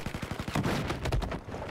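Machine gun fire in Battlefield 4, a quick rattling burst of rapid shots followed by heavier overlapping gunfire, loud and close, over about two seconds.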